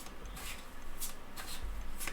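Universal Celtic Tarot cards being shuffled in repeated riffling bursts, a soft papery flutter rising and falling in steady rhythm, close by with no voices.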